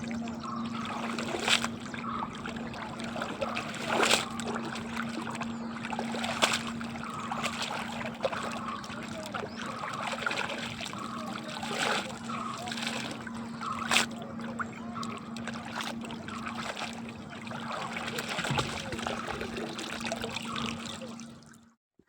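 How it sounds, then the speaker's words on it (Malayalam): A river flows past a rural homestead with a steady, soft rush of water that continues without a break, faint and unaccompanied by any voices. "ഒരു പുഴേൻ്റെയൊക്കെ ഒച്ചയും വിളിയും ഒക്കെ ഒന്ന് കേട്ടോട്ടെ എന്ന് വിചാരിച്ചിട്ടാണ് അവിടെ ഞാൻ സൗണ്ട് കൊടുക്കാതെ നിന്നത്"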